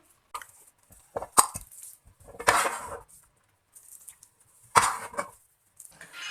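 Carrot halwa made with homemade khoya is scooped into a serving dish: intermittent clinks and scrapes of a spoon against metal and glass, with short sharp knocks separated by quiet gaps, close by.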